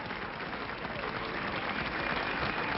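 A large crowd in Paris applauds steadily, dense clapping and murmur blending into a continuous wash of sound that holds at an even level for a few seconds.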